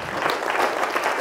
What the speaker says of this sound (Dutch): Ook voor hem het applaus